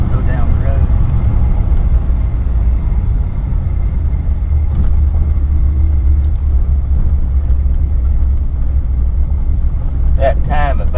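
A car engine runs rough and uneven before it has warmed up, with timing advanced and no acceleration. It gives a steady low rumble from start to finish, with no clear change.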